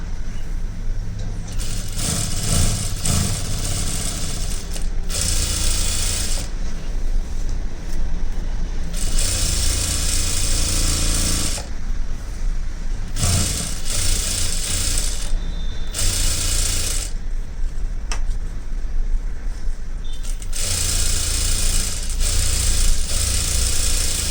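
Sewing machine stitching lining into a full blouse, running in repeated bursts of rapid mechanical whirring separated by short pauses, close and fairly loud throughout.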